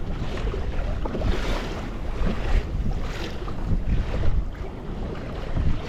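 Strong wind gusts buffet a small fishing boat on Kiser Lake on a rough day, a steady near roar of wind noise with water slapping, with no talking.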